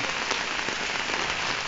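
Heavy rain pours down in a dense, steady hiss in Lian, Batangas, close and constant with no voices.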